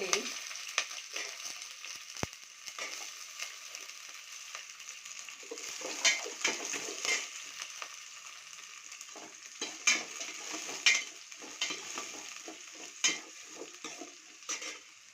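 Onion, ginger, garlic and green chili fry in a pan with a light, faint sizzle. Utensils scrape and tap now and then, with a sharp click early on.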